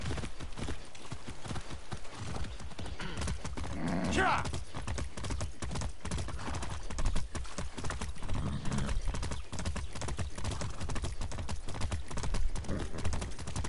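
Rhythmic hoofbeats clatter continuously as a horse gallops at speed in the video game Far Cry 6, with a brief whinny early on, busy and close.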